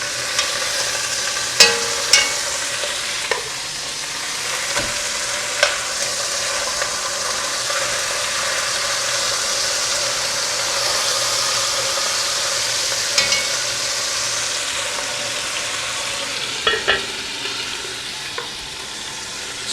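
Beef pieces for a roast beef dish sear and brown in a hot pan, giving a steady, dense sizzle throughout, broken by occasional sharp clinks and scrapes as the pieces are moved and turned.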